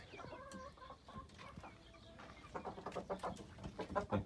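Several chickens cluck and murmur nearby, with overlapping soft calls growing busier and more rhythmic toward the end.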